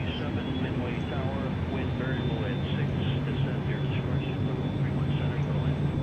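A steady Airbus A320 engine drone from a flight simulator hums and whines continuously as the engines start up, with a person talking over it.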